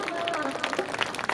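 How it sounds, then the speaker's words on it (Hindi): A church congregation at a Hindi-language prayer service claps for Jesus Christ, a brief burst of scattered hand claps heard under a speaking voice. "जोरदार तालियां यीशु मसीह के लिए"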